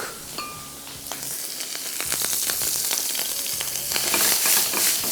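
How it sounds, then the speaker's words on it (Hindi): Mushroom slices frying in a little oil and salt in a pan, a steady close sizzle with faint clinks and stirring scrapes, heard alone without any talking, for a breakfast dish. "इसी पैन में हम सबसे पहले मशरूम स्लाइस फ्राई कर लेंगे"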